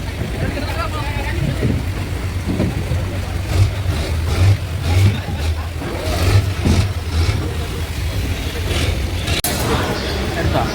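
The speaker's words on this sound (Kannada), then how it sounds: "ಬೋಟ್ ಬಂದು ಹೇಗೆ ಪಾರ್ಕಿಂಗ್ ನಿಲ್ತದೆ ನೋಡಿ ಅಂತ" At the Dakke fish market in Kudla, a fishing boat's engine rumbles and revs as it comes in to dock, with wind and busy voices talking over it and a brief sharp knock near the end.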